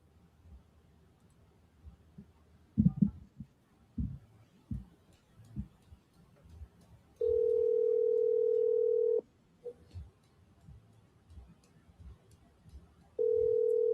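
An outgoing phone call rings out unanswered, with two long steady ringback tones separated by a pause, beneath faint background noises and some quiet talk.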